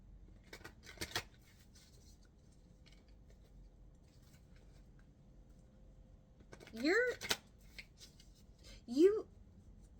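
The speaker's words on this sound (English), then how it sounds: "I'm gonna get some cards from the Voyager Tarot" Voyager Tarot cards handled and shuffled in a few short bursts of papery riffling and sliding, spread across a quiet stretch, with a voice speaking in between.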